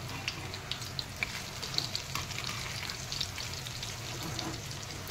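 Bogo fish fries on a low flame in a pan, a steady close sizzle with scattered small pops and crackles of oil, no voices present.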